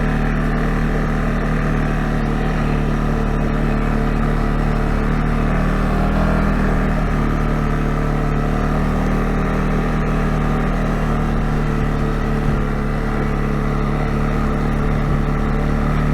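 A 2022 CFMOTO CFORCE 625 ATV crawling over a steep, bouldery trail, its engine droning loudly and steadily up close with little change in revs, no talking.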